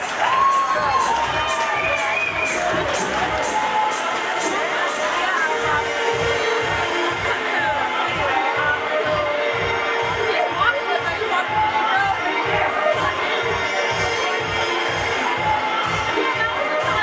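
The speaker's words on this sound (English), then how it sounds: "Give her a round of applause." A crowd at a graduation fashion show fundraiser claps and cheers continuously, with steady rhythmic clapping, shouts and chatter blending into a lively, fairly distant hubbub.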